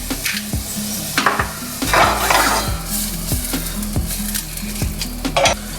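Pre-cooked king crab heats in butter in a pan, giving a loud close sizzle with repeated sharp scrapes and clanks of a utensil stirring and tossing the pieces at an uneven rhythm.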